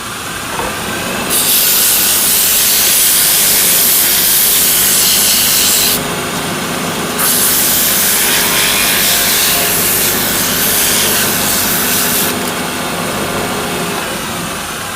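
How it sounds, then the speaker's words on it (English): Steady abrasive hiss of sandpaper against spinning wood on a lathe, with a constant motor hum; the hiss swells and eases in long stretches. "I would sand them."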